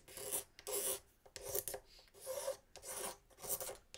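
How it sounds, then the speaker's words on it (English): A razor blade scrapes dried finish and a glue line off the top of a Martin acoustic guitar, in repeated raspy strokes with brief pauses between them, close and fairly quiet. "I'm going to take that razor blade and scrape it some more because I think there's just a glue line right on here"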